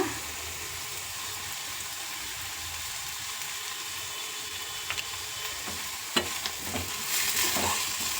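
Onions fry in a pan for an egg fry, crackling in a continuous close sizzle with a few sharp utensil clicks near the end and a brief louder surge at the close, with no voices.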